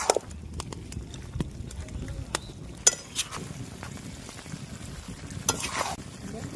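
Chicken is mixed with ginger paste, garlic paste, turmeric, salt and Kashmiri chili powder in a pot: soft squelching stirring with irregular spoon knocks and clacks, some louder bursts, and no clear talking.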